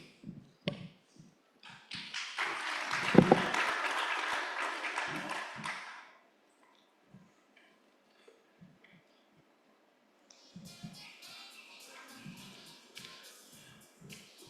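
Audience applause for a panel at a UN Volunteers event in Kenya: a few scattered claps swell into a dense burst of clapping lasting several seconds, then fade, followed by a quieter second round after a pause.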